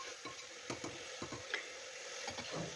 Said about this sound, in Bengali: এবার এর মধ্যে দিয়ে দিচ্ছি ম্যারিনেট করে রাখা মাটনটা দিয়ে ভালোভাবে নাড়াচাড়া করে নেব, গ্যাসের আঁচটা একটু বাড়িয়ে দিয়ে